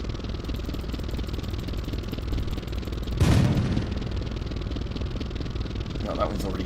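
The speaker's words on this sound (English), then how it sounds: "I can hear some of the other tanks on my side firing" Tank gunfire from allied tanks in the Sprocket tank combat game, one loud blast near the middle over a steady engine rumble, with a fainter shot near the end.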